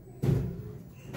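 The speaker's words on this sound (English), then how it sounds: "Loud and scrapey door." A Horizon lift door at a Dunelm store in Farnborough slides open with a loud, rough scraping rumble that starts abruptly and fades over about a second.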